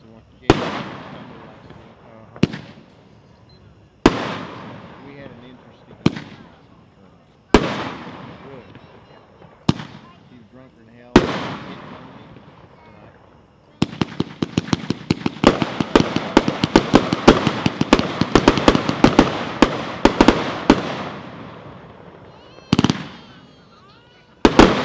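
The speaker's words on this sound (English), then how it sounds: "38-shot shredder, comes packed 4-1." A 38-shot shredder fireworks cake fires at a fireworks convention demo: several single sharp bangs spaced apart, then a dense rapid barrage of cracking shots, followed by a couple of final blasts.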